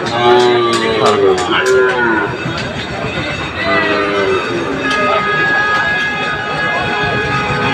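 A Sahiwal bull lows at the Ambari cattle market in Dinajpur: deep, drawn-out moos over a busy background of crowd chatter and market noise.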